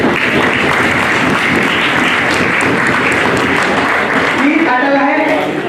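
An audience applauds at an award ceremony in the Indian parliament, a steady wash of clapping that holds throughout, with voices sounding faintly near the end.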